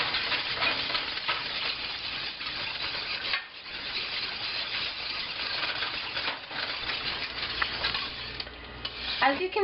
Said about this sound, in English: there's a nice soft boil on my bechamel sauce